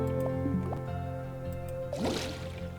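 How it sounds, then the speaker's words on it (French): Water poured into a steamer, a few dripping plops followed by a brief splashing gush of liquid, close and fairly quiet over a steady background hum. "je vais mettre de l'eau alors"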